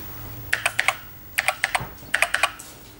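Keystrokes on an Acorn Electron home computer keyboard, three quick bursts of about four crisp clicks each, close and clear with no talking.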